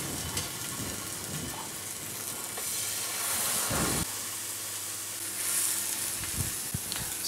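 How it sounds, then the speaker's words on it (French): Whiting fillet frying skin side down in a pan, a steady close sizzle and hiss that runs on with no talking, swelling slightly louder midway. "Commencez par colorer du côté peau."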